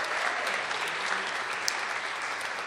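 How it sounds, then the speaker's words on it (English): An audience applauding at a live theatre show, with dense, steady clapping filling the whole stretch at an even, fairly loud level. "So give them a round of applause, too,"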